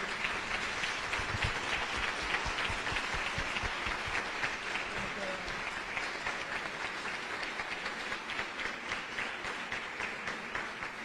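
A church congregation applauds a pastor in sustained, even clapping that stays fairly faint and distant throughout, with no other voices standing out.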